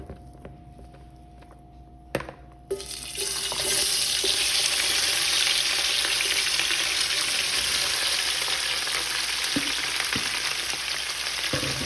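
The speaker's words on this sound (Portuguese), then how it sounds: "Eu vou deixar agora essa carne fritar bem" Sliced beef hits very hot oil in a large pan at about two and a half seconds, and a loud, steady frying sizzle then fills the rest of the time with no voices.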